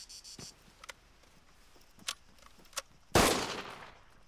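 Gunfire crossfire in the Arma 3 Altis Life game: a few scattered, distant single shots followed by one louder, closer burst that rings out and decays.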